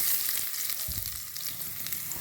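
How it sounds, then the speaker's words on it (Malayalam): Mustard seeds, onion, ginger and curry leaves frying in hot oil in a pan, giving a steady close sizzle with soft crackles and a brief stir around the middle, with no voices. "ഇച്ചിരി ഉള്ളിയും ഇഞ്ചിയും കരിവേപ്പിലയും കൂടെ മൂപ്പിച്ചിടുകയാണ്"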